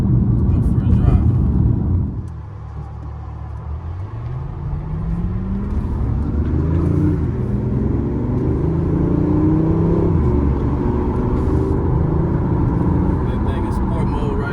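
A BMW i8 sports car pulls away on a sunny day. Its engine and electric whir rise steadily in pitch as it accelerates, with a loud, continuous rumble close by.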